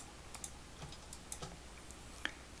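Faint, sparse clicks of a computer keyboard and mouse during Illustrator design work, a few light taps scattered over a quiet background hiss.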